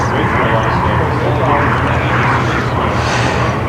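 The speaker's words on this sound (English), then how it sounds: "It's a flyby." A giant scale RC T-38 Talon model jet makes a flyby during a scale competition, a loud, continuous jet roar that swells and fades slightly. An announcer talks over it.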